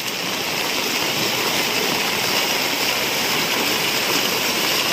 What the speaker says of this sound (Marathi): मरणाचा पाऊस लागता, रात्रभर अगदी लागलो।